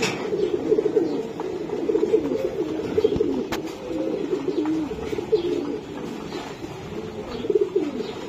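Racing pigeons coo in a dense, overlapping chorus of throaty, rolling calls, loud and close, with a sharp knock midway.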